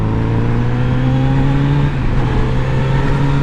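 A 2022 Kawasaki Z900RS inline-four motorcycle with a factory-tuned exhaust holds a loud, steady, close engine drone, its pitch dipping slightly midway.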